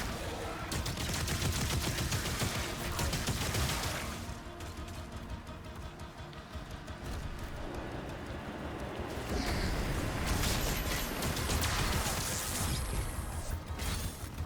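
Sustained heavy gunfire from a weapon in Doom The Dark Ages, continuous and loud for the whole stretch, with mechanical clanks and booming impacts, no talking.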